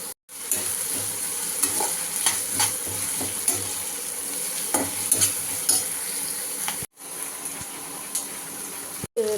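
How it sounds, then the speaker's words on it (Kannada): Onions frying in a pan until brown, with a continuous close sizzle and repeated stirring scrapes, briefly cut off by two short gaps. "ಬ್ರೌನ್ ಕಲರ್ ಆಗೋವರೆಗೂ ಫ್ರೈ ಮಾಡ್ಕೊಳ್ಳೋಣ"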